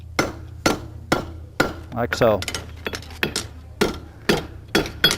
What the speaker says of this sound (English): I leave my hammer on top and I simply drop my hand.